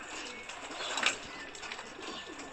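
Domestic racing pigeons coo softly nearby, with a few low throaty calls rising briefly above a quiet outdoor background, alone and without speech.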